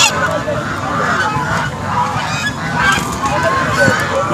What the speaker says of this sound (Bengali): সেই উন্নত জাতের রাজা হাঁসগুলো